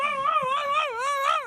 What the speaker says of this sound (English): Barking at nothing.